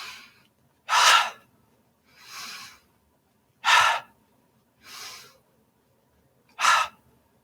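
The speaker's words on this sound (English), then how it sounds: "take 3 deep breaths." Three deep breaths in a stress-relief exercise, each a loud, sharp inhale followed by a softer, longer exhale, evenly spaced, close and alone with no speech.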